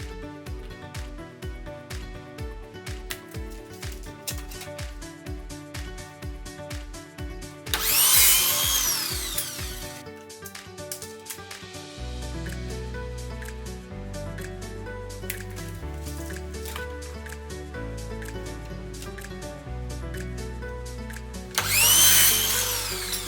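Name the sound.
power tool cutting wooden lengths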